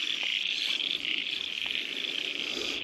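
Frogs call in a dense, continuous high-pitched chorus beside a Tasmanian stream, steady and moderately near, with no talking over it.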